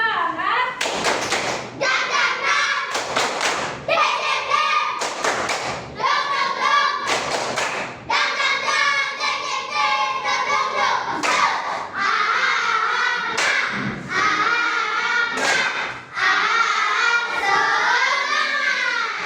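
A class of children performs a rhythmic spirit clap, sharp loud group claps and thumps falling in patterned bursts while young voices chant along throughout.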